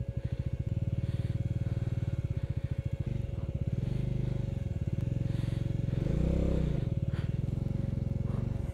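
A motorcycle stuck on the rough Sach Pass road strains hard, its loud engine thumping continuously close by and swelling in revs near the end.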